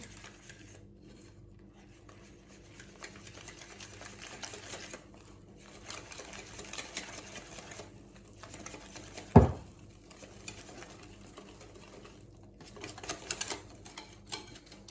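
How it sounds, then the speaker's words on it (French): Cake batter for a sun-dried tomato and cheese loaf, made with flour and baking powder, is mixed in a bowl with a quick, rhythmic tapping and scraping. One louder knock lands midway, and no one speaks. "on essaie de bien mélanger pour éviter les grumeaux."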